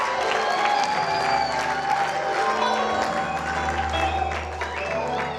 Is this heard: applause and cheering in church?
yes